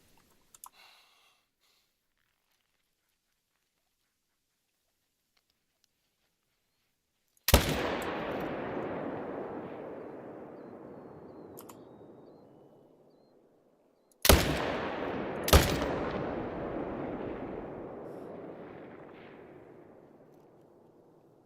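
Three loud rifle shots from a hunting trip in theHunter: Call of the Wild, one alone and then two close together, each with a long rolling echo fading away across open country.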